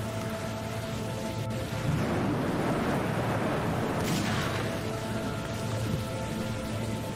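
Steady, loud rainfall from the video game Dead Age, a dense continuous hiss that swells after a couple of seconds and keeps going, with no one talking.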